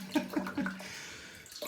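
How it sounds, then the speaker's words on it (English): Water is poured into a shaving cream bowl during wet-shave lather preparation, a brief close splashing trickle with a few soft pulses over about a second. "So I'm going to put a bit more water in actually"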